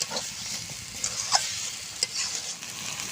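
A pan of taro and mung dal curry being stirred, with soft scraping strokes over a low, steady sizzle, close and alone with no voices.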